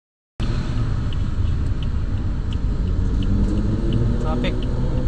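Steady road traffic near bus terminals by a mall, a dense continuous rumble of cars and engines close by, holding at an even loud level throughout without distinct talk.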